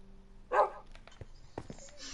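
A short dog bark or yip from the Minecraft video game, heard once near the start at moderate loudness, followed by faint scattered clicks and small game sounds.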